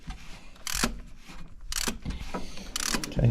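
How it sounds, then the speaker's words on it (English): A ratchet turns 10mm bolts on the VTEC solenoid of a Honda Civic 1.8, giving three close bursts of rapid metallic clicking separated by brief gaps. "Okay, so now we'll ratchet them a little bit."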